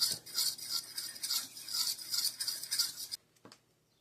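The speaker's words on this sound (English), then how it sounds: "And stir that up." Collagen powder and baking soda stirred together in a bowl for keto cookie dough, a steady scraping, rasping swirl of utensil against the bowl for about three seconds, then a brief tap and quiet.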